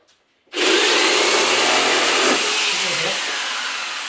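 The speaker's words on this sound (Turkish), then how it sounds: "kısacık bir kesiveriyorum şunu." A power saw cuts into wood for a sliding cabinet door, kicking in abruptly with a loud, steady buzzing whine that holds for several seconds and then tapers slightly, with no talk.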